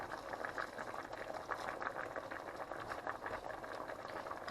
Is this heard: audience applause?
no